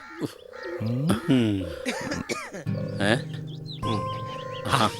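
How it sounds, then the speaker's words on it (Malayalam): A man coughs and clears his throat repeatedly in harsh, raspy bursts, close by, interspersed with voiced groans. "ഇവന്റെ ഒരു ഒടുക്കത്തെ ചുമ"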